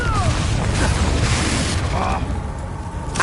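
A Bombarda explosion spell from Hogwarts Legacy booms loudly at the start and rumbles on, then fades slightly, with a voice faintly under the noise.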